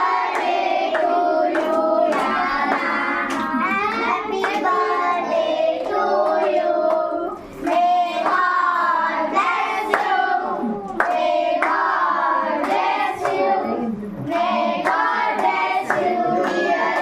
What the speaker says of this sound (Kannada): ಎಲ್ಲರೂ ಚಪ್ಪಾಳೆ ಬರ್ಸ್ಬೇಕಾ?